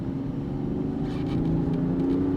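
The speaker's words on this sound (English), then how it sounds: "I think it has some fake exhaust note pumped in, but regardless, powerful, nice to drive" Engine and exhaust note of a 2023 Range Rover Sport while driving: a steady low, throaty hum inside the cabin, rising slightly in loudness and pitch toward the end.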